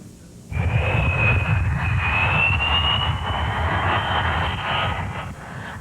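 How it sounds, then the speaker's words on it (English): Airplane noise near the Portland Jetport in Maine, heard on a news broadcast: a loud, steady aircraft engine roar with a rising whine starts abruptly and holds for several seconds, without talk. "We're talking about airplane noise."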